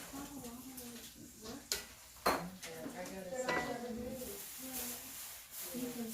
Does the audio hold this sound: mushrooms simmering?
yes